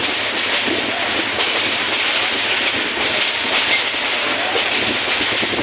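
A crowded passenger train in Bangladesh, riders packed even on the roof, runs along the rails with a steady loud rumble and rushing noise, and faint rhythmic clatter sits under the constant din throughout.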